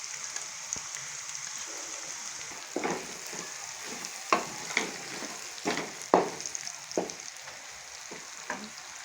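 Ginger, garlic and garam masala paste hitting browned onions in a pan for a chicken curry, a steady soft sizzle with irregular sharper crackles and stirring taps building in the second half, no speech.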